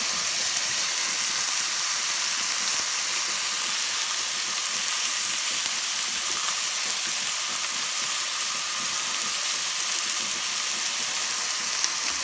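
Chicken cooking in a pan, with a steady, dense sizzle and frying hiss that holds evenly throughout, close and fairly loud, with no talking.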